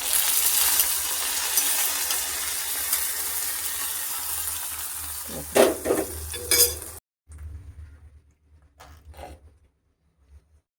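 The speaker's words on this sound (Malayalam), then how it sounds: "നമുക്ക് കടുക് വറുത്ത് നമുക്ക് ഇതിലോട്ട് ഒഴിച്ച് കൊടുക്കാം." Hot mustard seed tempering sizzles as it is poured into bitter gourd pachadi, a loud continuous crackling fry that flares with sharp bursts near the end, then cuts to quieter clinks and scraping.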